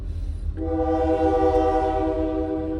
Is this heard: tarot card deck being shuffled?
no